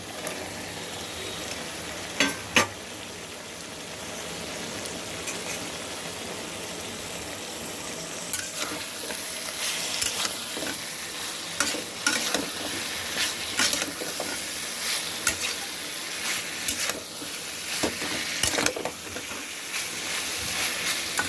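Ginger sizzles loudly in hot oil in a home-kitchen pan, with a steady hiss and scraping bursts of stirring throughout.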